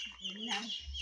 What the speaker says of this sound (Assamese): কি হাঁহ নে কি না ব্ৰইলাৰ?